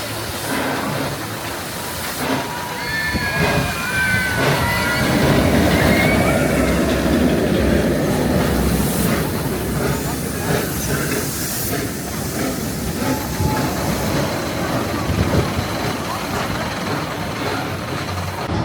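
A roller coaster train rolls back into the station with a heavy rumble, hissing air and brief squealing wheels, then settles into a steady noisy clatter.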